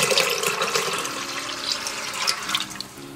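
Water runs steadily from a tap into a pressure cooker holding soaked gungo pigeon peas, a continuous splashing pour lasting the whole moment, close and moderately loud with no talk.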